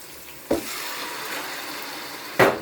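Chicken sizzles gently in a pan with garlic, onion and ginger for tinola, a soft steady fry broken by two short, sharper bursts of stirring or spattering, with no voices.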